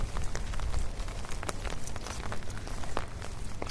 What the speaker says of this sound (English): He really hates walking in the rain.